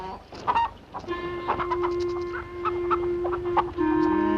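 A chicken clucks repeatedly at close range with uneven rhythm, interrupted by a few sharper squawks, over a steady background hum, in a Western TV drama scene.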